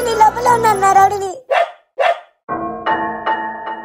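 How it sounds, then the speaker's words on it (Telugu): A dog barks and yips in a few sharp bursts indoors, with a voice-like whining call at the start and a clatter of barks near the end. "ఏదో డాగ్ వాయిస్ లాగా వస్తుంది"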